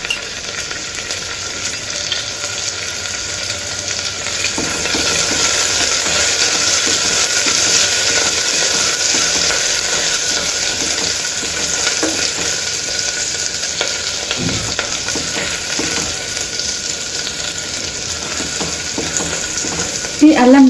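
Ginger garlic paste fries with onions in a pan, giving a steady, loud sizzle with occasional stirring scrapes throughout.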